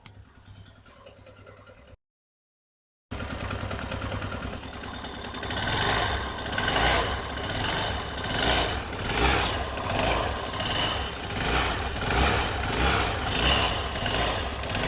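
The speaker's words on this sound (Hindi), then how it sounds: "अब चलिए आपको हम इंजन का थोड़ा साउंड सुना रहे हैं।" A rebuilt TVS Star City Plus BS6 110 cc fuel-injected motorcycle engine runs close by, a steady throbbing idle that swells in regular pulses, after a quiet start and a brief gap of silence.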